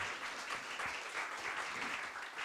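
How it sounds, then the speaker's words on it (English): Steady round of audience applause at a cyber meetup, dense and even clapping from a crowd, fairly soft and distant, running the whole time without speech. "give it one more time a round of applause for Sona."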